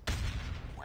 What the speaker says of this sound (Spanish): no sé de dónde salen esos cañonazos